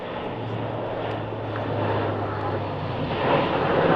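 An Airbus A400M turboprop military transport of the German Air Force flies a tactical display at RAF Fairford, giving a continuous, loud, rumbling propeller drone that swells slightly toward the end.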